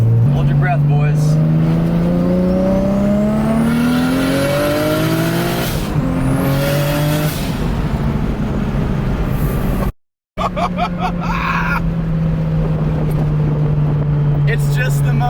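A 1JZ-swapped Datsun 280Z accelerates hard from second gear, its engine note and turbo whistle climbing steadily, dipping briefly at a shift, then building again, loud from inside the cabin with a voice talking over it.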